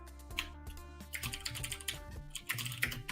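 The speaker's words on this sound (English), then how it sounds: "Are you typing something?" Rapid typing on a computer keyboard during a programming session, with dense irregular clatter of key presses and occasional sharper taps, fairly close but quiet.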